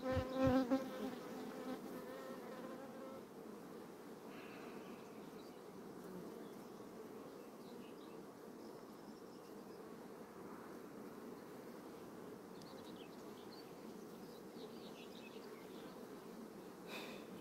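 Honeybees drone steadily at an open hive during a beekeeper's inspection, a dense, continuous buzzing that stays close and even throughout, with a brief louder burst at the very start.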